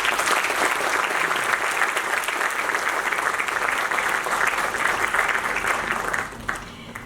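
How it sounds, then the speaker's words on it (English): An audience at an Oxford-style arbitration debate gives the jury a warm round of applause, dense sustained clapping from a full hall that fades near the end. "in giving our jury a warm round of applause"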